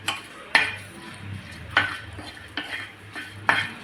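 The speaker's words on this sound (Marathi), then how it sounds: "तर या आपल्याला खरपूस छान भाजून घ्यायचे" Green chillies roast and get stirred in a pan. A spoon scrapes and clinks against the metal in sharp strikes about once a second, over a low, steady sizzle. No one speaks.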